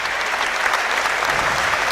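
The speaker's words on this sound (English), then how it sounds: "round of applause as Kitchen comes off" A football crowd at a National League match between York City and Brackley Town applauds a substituted player, a loud, dense, steady clapping across the stands.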